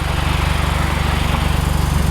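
Hyundai Genesis car engine idling with a leaking exhaust flex pipe, giving a loud, close, fast rhythmic pulsing rattle that holds steady throughout.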